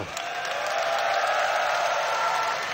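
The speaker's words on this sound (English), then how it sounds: "Round of applause for Cinnamon and Toby One." A crowd at The International 2015 Dota 2 tournament applauds steadily, a dense wash of clapping hands at even loudness, without speech.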